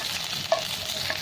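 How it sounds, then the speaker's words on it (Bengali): Onions sizzling in a pan as they are stirred for a quick home pasta recipe, a short, steady close frying hiss with a couple of faint scrapes. "পেঁয়াজগুলো 1-2 মিনিট নেড়ে নেবো, তারপর আমি শিমলা মির্চটা দিয়ে দেবো"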